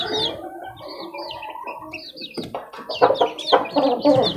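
Young chickens, including a young rooster and baby pullets, cluck and peep in a busy overlapping chorus, close by, growing louder and more agitated toward the end.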